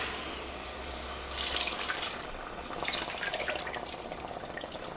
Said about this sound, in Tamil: இப்போ புளி தண்ணி விட்டுடலாம்.